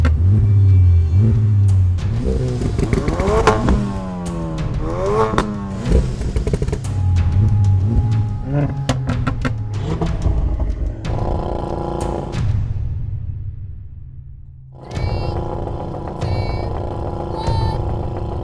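Hot hatchbacks including an Audi RS 3, Mercedes A45 AMG, Honda Civic Type R, VW Golf R and Ford Focus RS launch off the line in a drag race, engines revving loudly with rising gear pulls, cutting off, then a fresh burst of revving.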